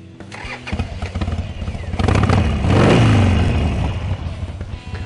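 A 2004 Harley-Davidson Sportster 1200 Roadster cranks and fires up, then its loud, close V-twin exhaust rumbles with a rev swell in the middle before settling to a lumpy idle, with no talking.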